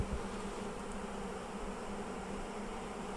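Honey bees drone steadily at an open hive, a continuous, even buzz that holds close and constant throughout with no voices over it.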